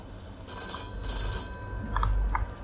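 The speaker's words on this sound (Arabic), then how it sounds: "التليفون، الو" A telephone rings in the Mafia II video game, with a bell-like trill that repeats over quiet game background sound. No one speaks over it.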